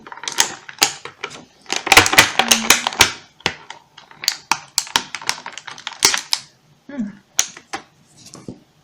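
Plastic toy packaging for My Little Pony Equestria Girls mini dolls being cut and pried open: a close run of sharp snips, clicks and crinkles in uneven bursts, busiest early and thinning out toward the end, with a voice briefly heard.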